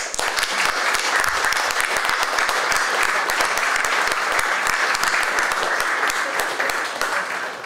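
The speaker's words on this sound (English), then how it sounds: "let's give those lecturers and support staff a round of applause" Loud, sustained applause fills the hall at the RTS Northern Ireland Student Awards, a thick crackle of many hands clapping evenly from start to finish with no break.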